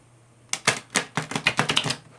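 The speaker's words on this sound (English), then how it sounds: "Ooh, that was a very loud shuffle." A deck of cards is shuffled loudly after a short silence, a quick run of about ten sharp riffling snaps over roughly a second and a half, close and crisp, then quiet.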